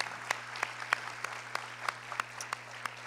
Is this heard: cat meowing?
no